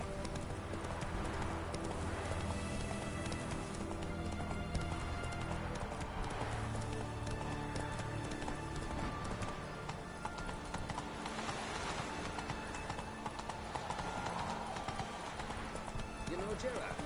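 Horse hooves gallop in a PS4 video game, a rapid, continuous clip-clop under layered game music and sound, with a voice talking over it throughout.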